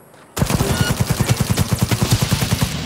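Rapid automatic gunfire in the video game Cyberpunk 2077 bursts in suddenly and continues as a loud, fast, evenly spaced stream of shots for a few seconds.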